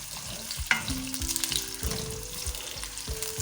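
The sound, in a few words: marinated chicken frying on low flame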